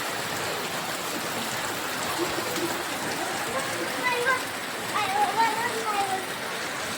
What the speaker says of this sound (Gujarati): એટલો વરસાદ પડ્યો આજ